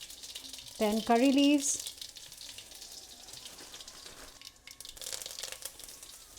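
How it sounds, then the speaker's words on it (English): Mustard seeds pop and crackle in hot oil in a pan, a steady sizzle with scattered small pops running throughout, while a voice speaks briefly near the start. "a teaspoon of mustard seeds. You need to let them pop."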